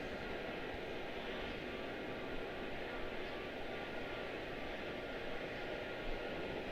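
A Delta Airlines airliner rolls along the runway at Charlotte-Douglas International Airport, its engines giving a steady, fairly distant broadband roar that holds evenly throughout.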